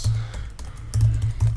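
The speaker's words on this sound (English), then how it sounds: "we need to type our email address" Typing an email address on a computer keyboard, a quick close run of light clicky keystrokes in short bursts.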